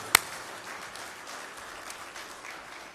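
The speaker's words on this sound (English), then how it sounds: "so a round of applause to you." Audience applause at the IGFA Tommy Gifford Awards, a steady wash of clapping from a large crowd that starts with one sharp clap and holds evenly.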